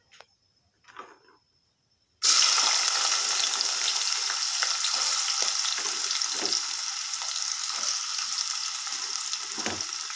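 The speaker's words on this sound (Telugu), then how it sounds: "దొండకాయలు బాగా వేగుతున్నాయి" Ivy gourds (tindora) drop into hot oil and set off a loud, steady sizzle that starts abruptly and holds for several seconds, after a few faint clatters in a quiet kitchen.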